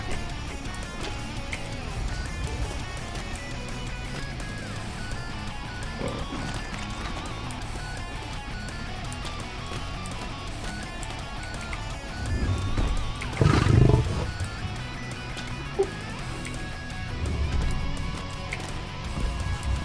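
Loud elephant roars and trumpeting blare over a busy Atlas game soundscape with music, peaking in a big bellow partway through.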